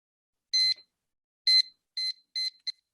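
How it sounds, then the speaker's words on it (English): A kitchen timer being set while gluten-free corn, pumpkin and zucchini bread bakes chirps five short, sharp electronic beeps, the first alone and the last four in quicker succession, near and clear with no talking. "So let's set our timer."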